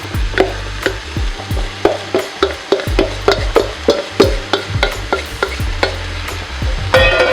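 TVP is stirred into a vegan spaghetti sauce in a pot, with loud, rapid, rhythmic scraping and clacking of a spoon against the pan over a thick bubbling simmer.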